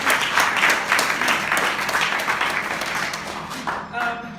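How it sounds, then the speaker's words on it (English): An audience at a community launch event claps for themselves, a close, steady burst of applause that fades out toward the end as a voice begins speaking. "You can clap for yourself."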